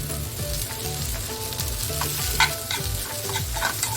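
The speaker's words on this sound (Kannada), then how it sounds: "ಇದನ್ನು ಕೂಡ ಈಗ ಹುರ್ಕೊಳ್ಳೋಣ ಸ್ವಲ್ಪ ಎಣ್ಣೆ ಹಾಕಿ" Chopped okra frying in oil in a pan, a continuous close sizzle with rhythmic stirring and scraping strokes throughout, loud and steady without any talking.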